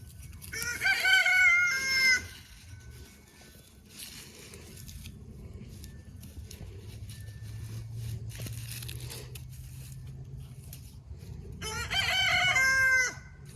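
Backyard chickens clucking with a rooster crowing loudly near the start and again at the end, the flock's low murmuring and scratching filling the quieter stretch between.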